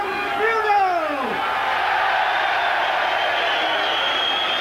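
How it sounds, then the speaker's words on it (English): A boxing crowd cheers and roars loudly and continuously at the close of a heavyweight bout, with a voice rising and falling briefly over the noise near the start. "So the final applause then for Bruno"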